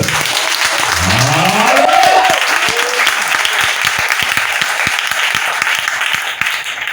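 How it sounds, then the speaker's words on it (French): A church congregation breaks into loud applause and cheering acclamation for the Lord, dense clapping throughout with rising shouted voices near the start. "Est-ce que tu peux donner une grande acclamation au Seigneur?"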